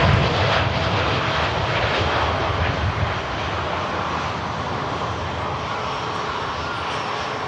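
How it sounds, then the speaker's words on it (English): Heavy aircraft at Manchester Airport, a loud, broad roar of airplane engines that stays steady throughout, slightly louder at the start, with no voices. "Heavy aircraft everywhere here at Manchester Airport this morning."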